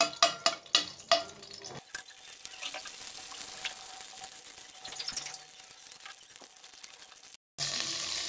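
Cardamom and bay leaves frying in oil: several sharp clinks as the whole spices drop in, then a faint crackling sizzle with light stirring, and finally a sudden loud burst of hiss.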